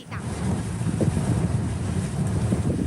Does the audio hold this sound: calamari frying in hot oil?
no